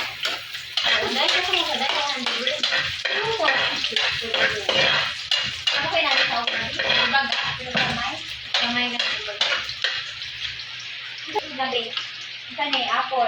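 Garlic fries in a pan with a steady sizzle, broken by scraping stirs and clinks of cookware. A person talks throughout.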